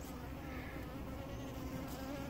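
Gentle Italian honey bees buzzing inside a hive box, a steady, close, low droning hum that continues without a break.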